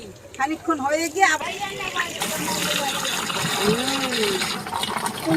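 Water gushes steadily from an outdoor tap in front of a church, filling a container. A person speaks briefly before the flow, and the rushing then continues unbroken.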